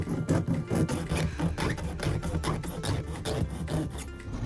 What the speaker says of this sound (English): then I sawed the circle into the ceiling